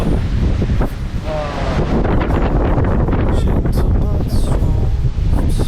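Strong, gusting wind buffets the microphone on the summit of a volcanic peak on Jeju Island, a loud continuous roar with rushing surges throughout, and a person speaks briefly over it.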